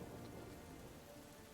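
Steady rain ambience with a low thunder rumble, a soft continuous hiss of falling rain at low volume, with no talking.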